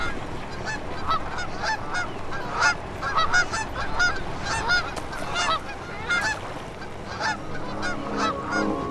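Geese honk repeatedly by the water, a busy flock of overlapping calls close by, with a soft watery background throughout.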